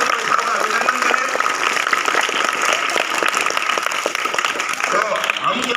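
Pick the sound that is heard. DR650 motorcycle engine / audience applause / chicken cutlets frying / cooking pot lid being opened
audience applause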